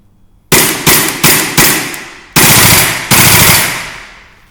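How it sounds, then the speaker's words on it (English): An ASG B&T Rotex III suppressed airsoft gun dry fires inside a factory. Six loud, sharp bursts come close to the listener in an uneven rhythm, each one ringing and decaying through the large space, with no voices. "we'll fire a couple of dry fires down the length of the factory"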